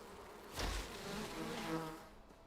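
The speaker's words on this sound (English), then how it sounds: "Go away, bees." Bees buzz faintly in a video game, a soft insect drone with a brief louder swell as one passes close, then lingering low hum.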